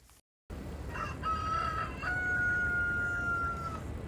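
A rooster perched on a rooftop crows once in a long, drawn-out call, clear and moderately near, rising over a steady background hum after a brief silent gap.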